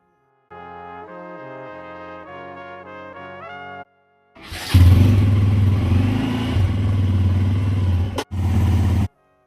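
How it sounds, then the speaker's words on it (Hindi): A motorcycle engine is started after a stretch of tonal music: it catches abruptly and runs loud and close with a rough, steady idle, then cuts briefly near the end. "बाइक पे डिस्क लॉक लगा हुआ था तो मैंने इसको खोल दिया है और अब स्टार्ट करके देखता हूँ।"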